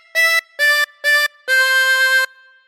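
A harmonica plays a phrase of Twinkle Twinkle Little Star, three short even notes and then one long held note, close and clean with no one talking.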